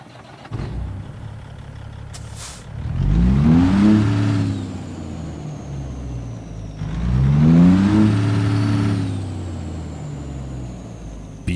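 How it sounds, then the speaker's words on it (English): Kenworth T600 semi truck with a Cat C15 engine in American Truck Simulator, idling then revving twice in two loud rising surges with a steady engine drone between them and no talk. "let's get this T600 started up and get on the road"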